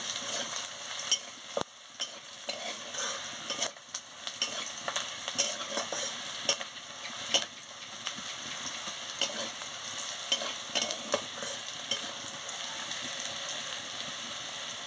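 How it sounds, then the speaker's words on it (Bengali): Dried chili and chili powder frying in oil for a Bengali eggplant, potato and tomato curry, a continuous crackling sizzle with frequent clicks and scrapes of stirring close by. "শুকনো লঙ্কার গুঁড়ো একটু দিয়ে দিচ্ছি দিয়ে ভালো করে ভেজে নিচ্ছি"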